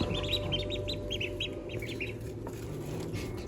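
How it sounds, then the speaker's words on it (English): Khaki Campbell ducklings give a rapid run of high peeping calls, continuous and fairly close, over a steady low background noise with no talk. "What noise do they make? Quack, quack."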